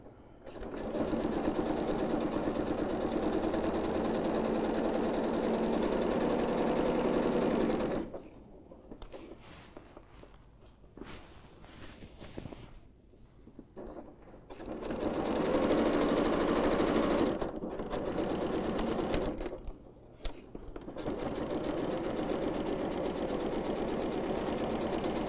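A sewing machine stitches a bodice seam in long close runs of rapid, steady whirring, broken by a pause with a few brief starts and stops before sewing resumes.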